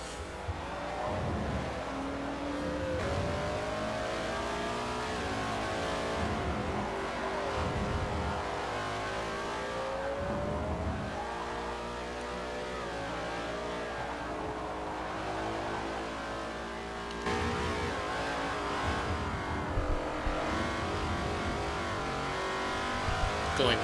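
Race cars lapping Monza in Forza, an engine drone that rises and falls through gear changes, with cars passing close and tyres scrubbing, under steady race commentary throughout.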